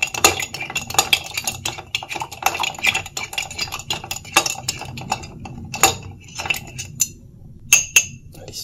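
A spoon clinks and scrapes inside a glass as a caramel party cocktail mixture is stirred, with rapid irregular chimes and taps, some ringing tones, and brief quiet gaps, close and clear.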